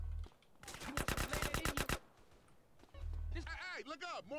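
Enemies in the GTA San Andreas game fire a rapid burst of loud automatic gunfire, then fire another short volley, with a tonal whooshing effect closing the passage.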